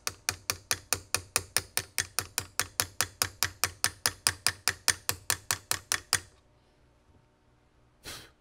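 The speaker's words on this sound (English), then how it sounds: "what I'm doing here is I'm using the edge of the screwdriver" A screwdriver edge scrapes dirt out of a screw slot on an 1873 Springfield Trapdoor rifle, giving about two dozen crisp, evenly spaced ratcheting clicks close up, then a pause and one last scrape.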